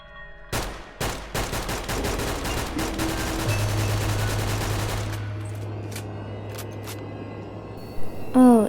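Video game gunfire in a fight against infected zombie creatures, a rapid burst of loud close shots followed by a few scattered single shots.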